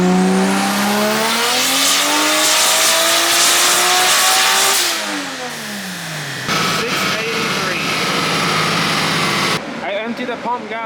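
A big-boost 2JZ-powered BMW E36 running E85 on a dyno screams through a loud, close rev sweep that climbs, drops off, then settles into rough idling and crackling.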